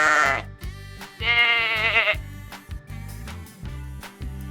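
A sheep bleats in two long, wavering calls near the start, followed by quieter sounds over a pulsing musical beat.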